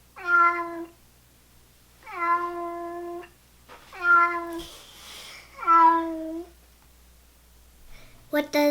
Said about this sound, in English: Here's what a cat sounds like.